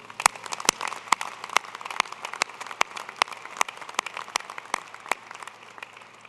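Audience applause at a 2010 University of Idaho winter commencement ceremony, a steady wash of many hands clapping with sharp individual claps standing out, sustained and fairly close throughout.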